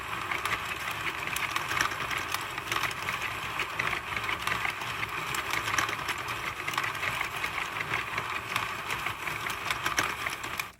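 A Sentro knitting machine, freshly oiled, whirs along steadily as its handle cranks the needle ring round, a smooth continuous mechanical clatter close by for the whole stretch with no talk.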